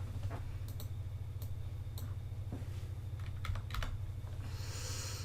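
Computer keyboard keys pressed for a Control-A then V shortcut, a few sharp scattered clicks over a steady low hum, close and fairly faint with no talking.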